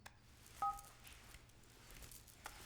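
A telephone number is dialed: a single short electronic keypad tone, faint and close, followed by soft handling rustle in a quiet room.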